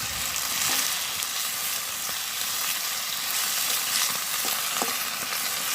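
Food frying steadily in a pan in a Bangladeshi village kitchen, a continuous bright sizzle with a few soft stirring knocks, close and alone with no talk, as salt and turmeric are added.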